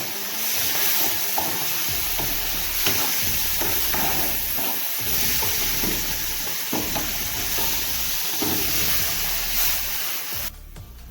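A steady hiss and sizzle of meat frying in a pan runs throughout, loud and close, with occasional scraping and clinks.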